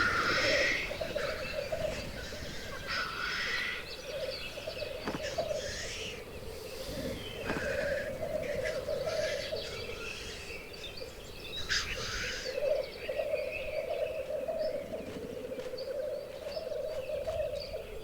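Black grouse males calling on an alpine courting ground in Bavaria, a steady bubbling, cooing chorus running continuously with scattered sharper hissing calls over it, moderately distant and layered.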